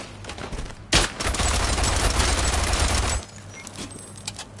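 A heavy machine gun in the World War I game Isonzo fires one loud, sustained burst of rapid shots lasting a couple of seconds. Scattered single shots and battlefield noise come before and after it.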